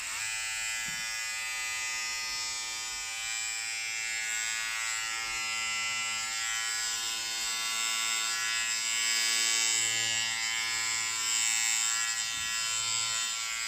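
A Remington F4000 electric foil shaver runs continuously, a steady high-pitched motor buzz with a dense whine that holds level throughout, close to the microphone, with only faint handling noises beneath.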